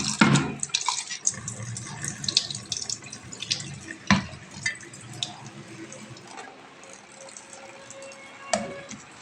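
Ginger, green chillies and onion are rinsed under running tap water in a home kitchen, a steady splashing and trickling stream with occasional drips and clatters, close and moderately loud throughout.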